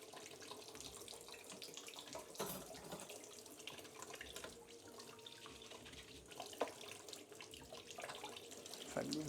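Tap water runs steadily into a kitchen sink during dinner preparation, a faint continuous splashing close by with a few louder clinks and drips.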